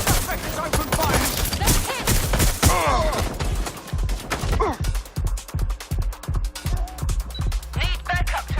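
Gunfire from a suspect in Watch Dogs: Legion, with dense bursts of shots early on, then a steady rapid rhythm of sharp close reports to the end.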